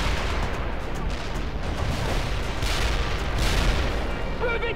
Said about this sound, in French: Ils nous tirent dessus.